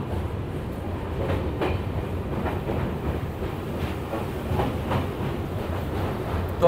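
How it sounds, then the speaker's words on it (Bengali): The Kanchankanya Express from Alipurduar to Sealdah rolls over the Jaldhaka river bridge on a curve of single-line track at night, giving a steady, loud rumble with rhythmic wheel clatter close by and no voices. "আমাদের ট্রেন পুরো কার্ভে আছে।"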